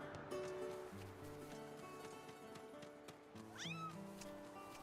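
Cat meows from the video game Zelda: Skyward Sword HD, two rising mewing calls over steady game music, moderately loud and without talk.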